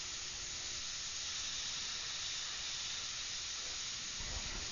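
An airbrush sprays paint onto a face in a continuous, even, airy hiss that holds steady at moderate loudness throughout, with no talking.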